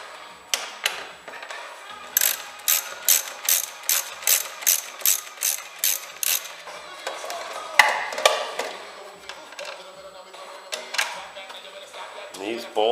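A ratchet wrench clicks in a rapid series of sharp, close bursts while loosening side-frame bolts on a Honda GL1800 motorcycle, with pauses and a few clanks of tools between runs.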